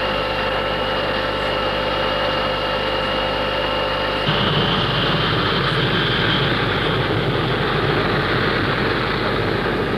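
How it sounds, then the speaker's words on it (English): A DC-9 airliner rolls out after landing on runway 28, a steady jet engine whine with tonal hum that shifts to a broader, louder roar partway through, heard from a distance with no talk. "DC-9 has just landed on runway 28."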